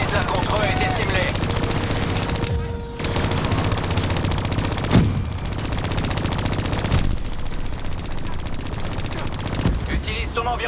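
Sustained turret machine-gun fire in Call of Duty Black Ops 3, loud rapid bursts running almost continuously with brief pauses, mixed with game effects and music.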